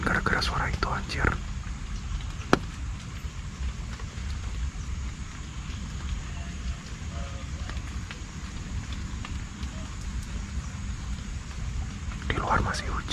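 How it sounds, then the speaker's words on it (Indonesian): Rain falls steadily outside at night, a continuous even hiss that lasts the whole stretch, with soft whispering voices near the start and end. "Di luar masih hujan."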